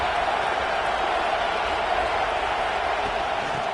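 A steady roar from a stadium crowd in College Football 26 rises as an unbroken wash of noise that holds level throughout, busy and fairly loud, with no clear individual voices.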